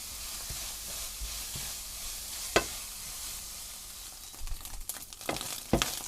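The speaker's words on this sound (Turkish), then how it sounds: "Şimdi etimizi kavuruyoruz böyle kıymamızı" Minced lamb sizzling and spitting in a hot pan, a steady fry with a few sharp crackles and scraping stirs toward the end.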